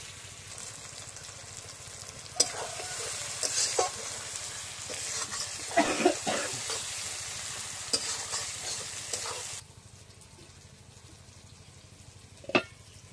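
Cinnamon and cloves sizzle loudly in hot oil with spice masala for Bengali-style fried rice, under steady stirring and scraping, before the frying quietens and a single sharp clink rings out near the end.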